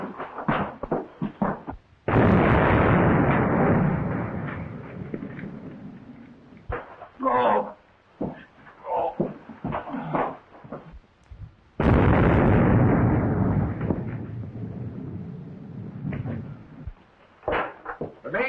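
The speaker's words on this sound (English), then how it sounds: "those explosions we heard must have been other mines." Mine explosions in a 1944 frontier action film, two long heavy blasts that roar and rumble for several seconds each, separated by scattered sharp pops and clatter.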